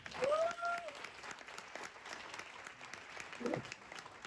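Faint applause from an audience at a motivational talk, a soft patter of clapping, with brief voices and whistle-like sounds rising above it near the start and again later.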